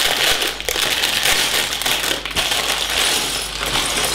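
A plastic bag holding small Lego pieces from a Lord of the Rings pirate ship set is crinkled and torn open up close, with dense rustling and a few sharp crackles, and no voices.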